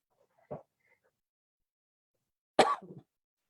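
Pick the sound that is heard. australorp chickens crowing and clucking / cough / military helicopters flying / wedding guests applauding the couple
cough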